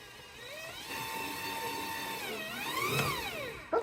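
A stand mixer with a whisk attachment mixing a breakfast batter, a steady whirring motor hum whose pitch swoops up and down, fairly faint, ending with a short knock.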